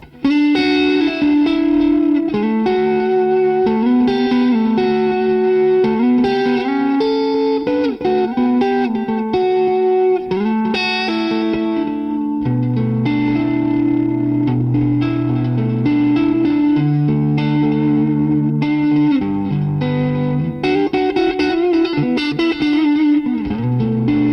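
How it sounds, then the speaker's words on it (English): Electric guitar playing sustained chords and melodic lines, washed in lush reverb with a chorused, slightly driven tone, loud and continuous throughout. "the best reverb pedal on the block"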